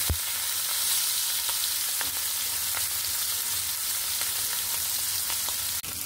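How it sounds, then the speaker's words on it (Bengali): Pieces of rohu fish fry in hot oil in a pan, giving a loud, continuous close-up sizzle with a few faint clicks and no voices. "এই যে মাছটা আমার ভেজে নেওয়া হয়ে গেল"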